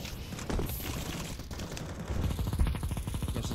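Rapid automatic gunfire rattles off in Counter-Strike 2 as a player sprays bullets into smoke, quick bursts that build into a dense, fast stream of shots, moderately loud.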